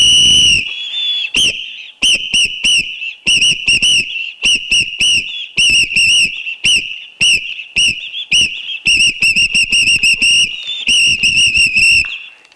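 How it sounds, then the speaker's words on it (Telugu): A shrill pea whistle is blown loudly and close up in many short, rapid bursts with brief pauses between them, in an office setting. "తర్వాత ఈ విజిల్ కూడా"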